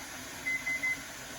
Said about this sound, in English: All right, timer just went off.